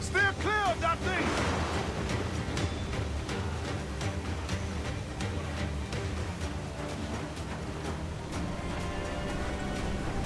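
A waterspout over the sea in Assassin's Creed: Black Flag, a constant loud roar of wind and crashing waves with creaking ship sounds and a brief whooshing swell early on.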